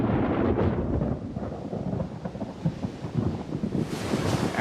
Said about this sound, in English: the worst storm in 25 years whips the English Channel into a fury